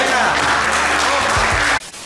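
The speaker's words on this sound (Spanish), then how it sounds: "¡Adelante un aplauso para el Dormetrillo!" A group of friends at a holiday gift exchange breaks into loud applause, dense clapping mixed with voices that carries on for almost two seconds and then cuts off abruptly.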